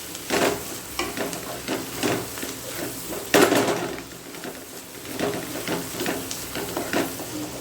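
Chicken egg fried rice sizzles steadily in a hot pan while a utensil repeatedly scrapes and stirs through it, giving a continuous close frying hiss broken by rhythmic scraping strokes.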